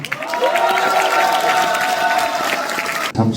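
Audience at a Democratic Party provincial convention applauding and cheering, a steady, loud burst of clapping and voices that cuts off abruptly at the end.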